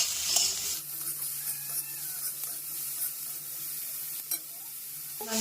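Green chillies, beans and capsicum with salt are stirred in a frying pan for a vegetable egg soup, with a soft sizzle beneath scraping strokes and a few clinks of the spatula, and no talk.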